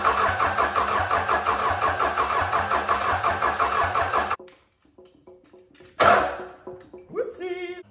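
A Cummins 4BT diesel engine cranks and fires, running with a loud, steady rhythmic chug for about four seconds before cutting out abruptly. Quieter clicks follow, then a short burst of noise.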